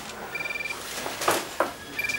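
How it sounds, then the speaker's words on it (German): A mobile phone rings in a domestic drama scene, a repeated electronic trill pulsing in short bursts over quiet background, with a couple of soft knocks or thuds in between. "das ist dein Handy. Jetzt geh doch endlich dran."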